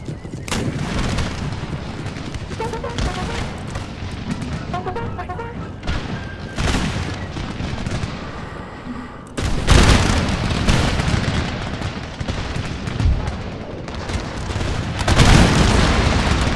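Artillery guns firing in Empire Total War battle, a barrage of deep booms and cracks, some distant and some close, over continuous battle noise, with heavier blasts near the end.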